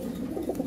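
A Lahri Siraji pigeon coos softly in a short, low burble, heard close but faint.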